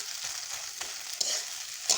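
Potatoes fry in a pan with a steady close crackling sizzle, punctuated by a few sharp stirring scrapes over two seconds.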